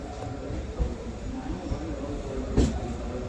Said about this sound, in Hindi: ट्रेन देखता है अपने अलीगढ़ जंक्शन से डिपार्चर हो रही है।